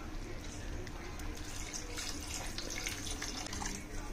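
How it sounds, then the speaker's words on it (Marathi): Water runs steadily into a pan holding drumstick pods and soaked moong dal for a masala vegetable curry, a continuous soft splashing wash that stays fairly faint throughout. "आता आपल्याला ज्यात पाणी ओतायचं आहे"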